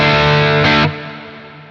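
Modulated reverb effect on a Quad Cortex, a loud, distorted sustained guitar tone with wavering chorus-like shimmer that swells briefly, then cuts to a decaying reverb tail.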